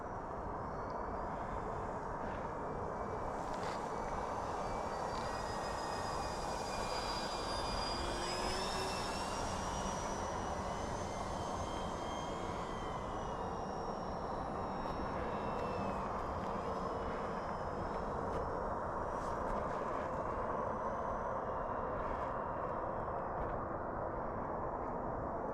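An E-flite Twin Otter model airplane flies a touch and go at an airfield, its twin electric motors whining steadily and rising and falling in pitch as it passes, over constant outdoor wind noise.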